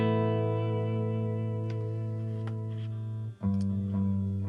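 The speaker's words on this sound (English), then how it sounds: "here is just the clean, unprocessed amp signal" A clean, unprocessed electric guitar amp signal, reamped through a Fractal Axe-FX III, holds sustained, harmonically rich chords with a few picked attacks and a brief dip before a new chord rings out, heard alone at moderate level.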